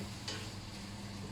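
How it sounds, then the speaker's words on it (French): Shrimp cooking in a pan for paella, a steady low sizzle with one brief scrape near the start, quiet and close, no voices. "On cuire les crevettes."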